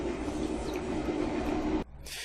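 A train rolls past on rails with a steady, loud rumbling roar that cuts off abruptly near the end, leaving quieter hiss.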